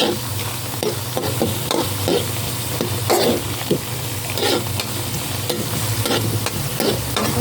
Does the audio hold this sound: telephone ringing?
no